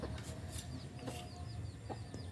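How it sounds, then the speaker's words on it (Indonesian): Chickens clucking near a bamboo coop, soft intermittent clucks and chirps over a steady outdoor background hiss, faint and continuous without speech. "lebih baik kita pelihara ayam sehingga ayam tetangga tidak berani datang ke rumah kita"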